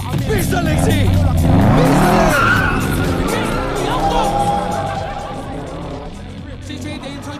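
A car driven in reverse skids with loud, wavering tire squeals up close, fading toward the end, while excited voices shout over it.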